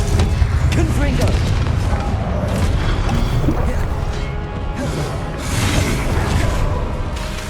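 Explosive fire spell blasts in a fantasy action video game's combat trial, a dense, continuous roar of booms and crackling impacts that stays loud throughout, with a voice heard faintly within.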